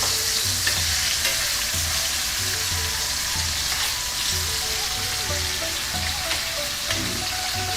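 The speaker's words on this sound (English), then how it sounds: "we're just going to sear it on both sides" Thin pork slices for red curry pork sear in a hot pan with a loud, continuous sizzle and crackle from start to finish, with faint tonal background sounds beneath and no talking.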